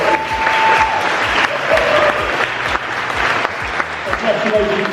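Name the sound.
audience applause for award finalists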